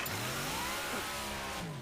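A chainsaw revs up after its cord is pulled, a loud continuous engine roar with rising and falling pitch that fills the short moment, with no talking over it.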